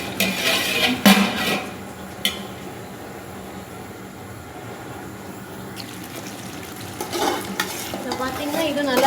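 Vegetables sizzle in a pan during cooking for chicken biryani, with a few clattering stirs near the start and near the end and a steady soft frying hiss between them, close and without talk.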